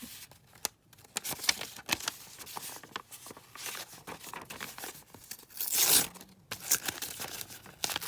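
Paper pages from a junk journal being cut down and handled on a craft desk, close rustling, crinkling and tearing-like rasps in an uneven run, with a louder burst of scraping midway, no talk.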